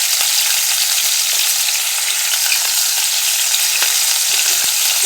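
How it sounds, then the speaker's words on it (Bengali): Local crabs frying in oil with salt and turmeric, a loud, steady, hissing sizzle with occasional stirring taps, close up and uninterrupted by any voice. "এবার ভালো করে মশমশা করে ভেজে নেব"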